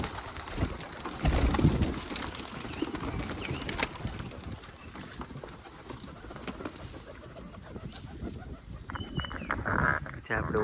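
Pigeons coo intermittently amid rustling and scattered bird sounds nearby, with a person talking over them for much of the time.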